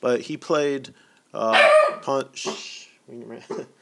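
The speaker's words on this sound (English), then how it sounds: "Sorry, that's my dog." A small miniature dachshund barks in short yappy bursts close by, with someone talking over and between the barks during a chess commentary.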